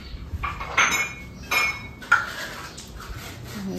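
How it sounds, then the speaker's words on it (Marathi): Dishes, pots and cutlery clink while being washed by hand in a home kitchen, with a few sharp bright knocks and clatters among softer rattling, close and moderately loud, no talking. "भांडी करा।"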